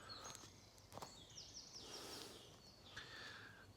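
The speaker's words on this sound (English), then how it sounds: "Oh, listen to those birds." Birds sing outdoors on a hillside, a few faint chirps and short warbling phrases carried at a distance over quiet background hiss, with a soft rustle of movement.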